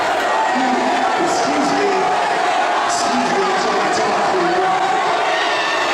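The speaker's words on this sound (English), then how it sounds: "Oh, I don't think the crowd liked that." A pro wrestling crowd at a Zero 1 USA event reacts loudly, with a dense, continuous roar of voices and scattered shouts filling the arena throughout.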